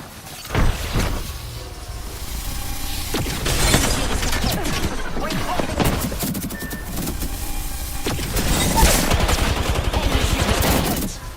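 Gunfire in the Apex Legends video game, with rapid automatic bursts and single shots, impacts and glassy shattering over continuous loud in-game noise, and a brief pause between volleys.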